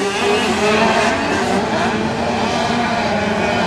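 Motocross bikes in a national race at Unadilla climb a hill as the field bunches together, a dense, loud, continuous roar of several engines blending into one sustained wall of sound.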